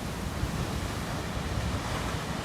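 Ocean waves on the North Shore surge in a steady, loud, broadband wash with low rumble and some wind buffeting the microphone, continuous and close, with no voices.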